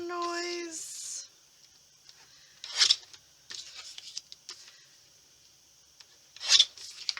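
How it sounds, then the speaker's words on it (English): Scissors trimming the edges of a printed photo for a scrapbook layout, giving a few short crisp snipping and rasping bursts spaced apart, close and fairly quiet, with faint rustling of paper between cuts. "I want to trim the photo down just a little bit"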